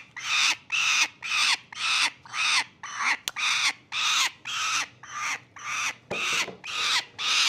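A falcon being handled for banding calls out in loud, harsh, repeated cries, about a dozen evenly spaced screams close to the listener, with brief handling noises between them.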